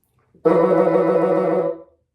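A single sustained woodwind note with a fast, even trill fluttering between two pitches, played using two keys, close and clear, for about a second and a half in quiet surroundings.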